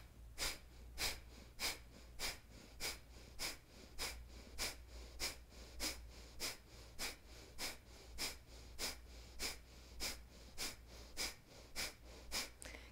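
Rapid, forceful pumping breaths during a yoga breathing exercise, sharp nasal exhales repeating in a steady, quick rhythm of roughly two per second, close and clear with no talking.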